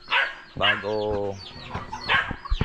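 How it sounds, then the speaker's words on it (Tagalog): Chickens cluck and squawk in short bursts while being fed in a rural yard, one drawn-out call in the middle, close and fairly loud. "Nagpapakain muna ako sa aking manok."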